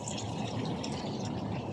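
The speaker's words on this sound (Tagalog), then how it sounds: "Ito yung tubig natin guys." Mountain water flowing down through a pipe or channel, a steady rushing, splashing stream heard up close with no break and no talk.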